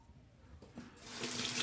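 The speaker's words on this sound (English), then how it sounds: "Give a little rinse, see what I need to clean up here." Bathroom tap running into a sink as a razor is rinsed after shaving, water noise swelling and growing louder and closer over under two seconds, with no voices.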